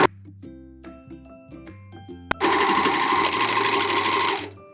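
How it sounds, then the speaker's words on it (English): A serger runs loudly for about two seconds, sewing the neck rib knit of a sweatshirt. Quieter tonal clicks and ticks lead up to it, and the serger stops abruptly. "Serging up the neck rib knit."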